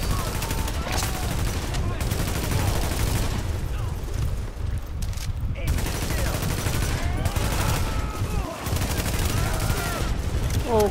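Sustained bursts of automatic gunfire and booming shots in Tom Clancy's The Division during a firefight over a supply drop, dense and loud throughout, with voices talking over it.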